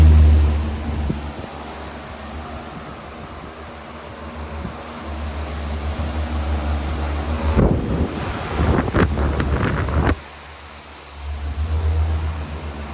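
A steady, broadband whoosh of a 1996 Patton U2-1887 high-velocity floor fan blowing air with a low hum, briefly disturbed by rustling and clattering handling noise before the airflow settles.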